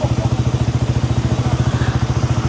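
A motorcycle engine idles close by, a loud, even, rapid chugging pulse that holds steady throughout.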